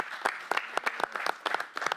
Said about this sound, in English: we need a round of applause for Matt Conant